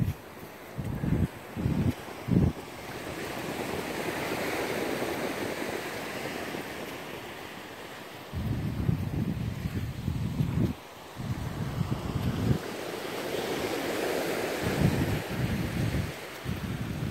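Ocean waves wash onto the beach at Hilton Head at sunset, a steady roar of surf mixed with gusty wind buffeting the microphone, with several sharp bursts of wind noise.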